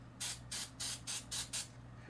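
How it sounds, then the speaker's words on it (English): An alcohol-based cleaning spray pumped from a bottle while cleaning a computer CPU, six short crisp hissing bursts in an even rhythm, close and alone. "We're always going to use spray to clean."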